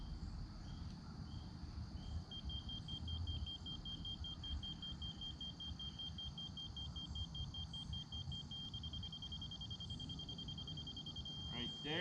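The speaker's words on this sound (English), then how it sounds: "Raise it up till she beeps." A laser level receiver gives a rapid, steady series of thin high beeps while leveling a backyard shed pad, faint and continuous against outdoor background noise.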